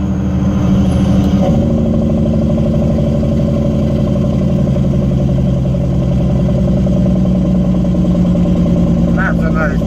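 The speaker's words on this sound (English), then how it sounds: "That's another nice thing with this truck, is the Jake brake. It sounds gorgeous." A Freightliner truck's Jake brake (engine brake) roars loud and close, a deep, rapid, rattling drone that holds steady for several seconds amid cab rumble.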